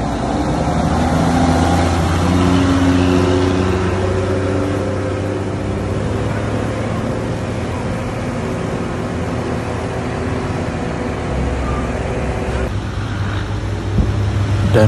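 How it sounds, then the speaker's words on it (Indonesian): An empty ANS bus drives along the Sitinjau Lauik mountain road from Padang, its engine a steady, fairly loud rumble with a faint hum that holds for most of the stretch before easing slightly. "Ini ada bus yang pertama berangkat, yaitu ANS tanpa penumpang"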